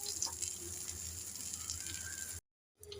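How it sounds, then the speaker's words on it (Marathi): Pieces of bangda mackerel frying in hot oil, a close, steady crackling sizzle that runs evenly and then cuts to silence shortly before the end. "तेल गरम करत ठेवलं होतं, त्यामध्ये 2 बांगडे टाकून तुकडे टाकून फ्राय करणार आहोत"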